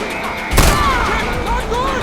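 A gun fires in the Far Cry video game, a single sharp, loud blast followed by a short decaying rumble, with someone talking over it.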